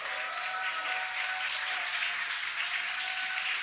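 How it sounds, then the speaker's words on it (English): Crowd applauding and cheering at a viewing site as the Dragon Freedom capsule returns to Earth, a dense continuous roar of clapping and voices, steady and fairly distant throughout. "You can hear the crowd here."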